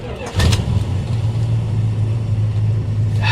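A 1973 Plymouth Scamp, a flood-damaged car, starts up and settles into a steady, loud, close engine idle with a deep, even hum.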